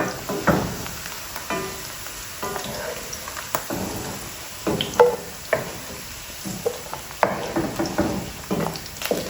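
Ingredients dry-roasting in a pan on a home stove, light sizzling under repeated scraping and stirring strokes that knock against the pan at an uneven rhythm.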